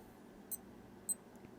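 A Casio G-Shock DW-5000R digital watch alarm gives two short, faint high-pitched beeps about half a second apart, with a softer third chirp after, in a quiet room.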